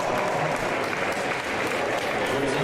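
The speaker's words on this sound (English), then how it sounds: "The whole state of New Hampshire is cheering for him now." A crowd applauding and cheering at an indoor track meet, the New England Indoor Track Championships, a dense, continuous roar of clapping filling the hall while an announcer talks over it.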